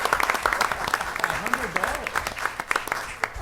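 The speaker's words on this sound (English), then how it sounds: "I'm applauding for you." Clapping at a Hazleton Area School District board meeting, a short burst of scattered hands from the audience with a voice talking over it.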